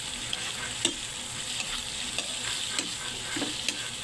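Beef innards fry in a pan with a steady sizzle while a utensil stirs them, scraping and tapping the pan several times in an irregular rhythm.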